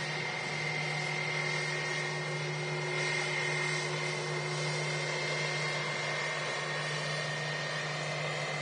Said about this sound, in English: There's that A321 from Lufthansa taxiing in.